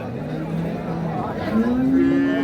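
A cow with her calf at Ambari cattle market gives a drawn-out moo that rises and strengthens toward the end, set against a low murmur of crowd noise.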